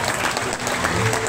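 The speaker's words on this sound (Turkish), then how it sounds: "bu tabloyu ve gençlerimizi şöyle bir alkışlayalım" Wedding guests at a Turkish ceremony applaud the young couple just before the marriage vows, a loud, tight burst of clapping from a crowd close by.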